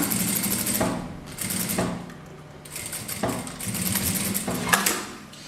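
A sewing machine stitches the folded hem of a rug in several bursts of a few seconds each, with short pauses between runs, close and fairly loud.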